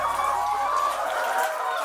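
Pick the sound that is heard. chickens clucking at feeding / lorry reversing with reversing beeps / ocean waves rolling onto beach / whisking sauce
chickens clucking at feeding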